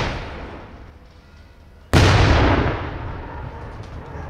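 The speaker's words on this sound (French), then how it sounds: "pourquoi on tire le canon à Nice" A cannon fires in Nice: one sudden loud boom follows a rumbling outdoor background, and the roar decays slowly over a few seconds as it echoes. No one talks over it.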